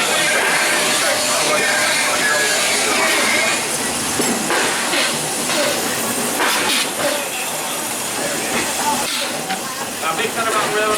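The Walt Disney World Railroad steam train at the Magic Kingdom hisses and chugs nearby, with steady steam noise, metallic clinks and rumbling wheels over the track, and faint voices mixed in.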